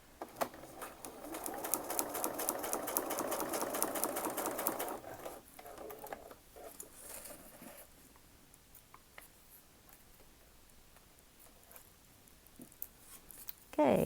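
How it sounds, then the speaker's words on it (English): Sewing machine stitching quilt block fabric pieces from raw edge to raw edge, a steady close whirring run for about five seconds, then quieter handling sounds and a faint voice near the end. "we're going to be sewing from raw edge to raw edge of each of our pieces"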